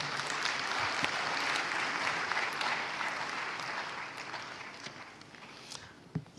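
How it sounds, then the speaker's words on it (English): An audience at a launch ceremony applauds a choir with a steady wash of clapping that gradually thins out, leaving a few scattered claps and thumps toward the end. "let's give them a hand of applause."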